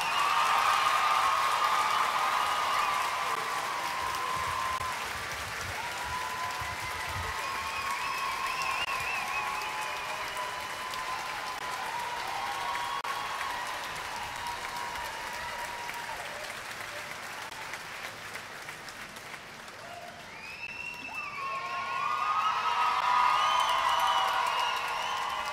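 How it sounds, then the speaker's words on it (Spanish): A circus crowd applauds and cheers at length, a sustained wash of clapping with whoops and shouts that dips midway and swells loudly again near the end. "yo quiero que con el mejor de sus aplausos les digan a todos ellos que tanto les gustó"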